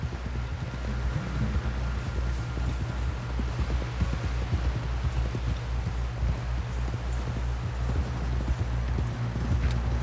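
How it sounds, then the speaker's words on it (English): Steady clip-clop of horse hooves at a brisk, regular trot, continuous and fairly close, with faint wind in the background, from the video game Red Dead Redemption 2. "Someone help John down off this horse"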